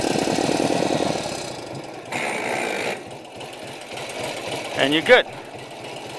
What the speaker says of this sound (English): Turn the bike on, and you give it a kick. And it should start just like that.